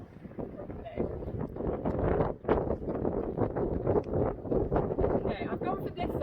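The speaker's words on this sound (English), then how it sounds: "Oh, it's so windy that you can't even get it down there properly." Strong wind at the beach buffeting the microphone in a constant loud roar, gusting unevenly throughout with a short dip midway.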